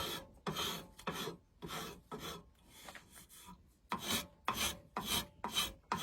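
A wooden hammer handle being shaved even with a hand tool, a run of close, rhythmic rasping scrapes in regular strokes with a brief pause midway, no talk.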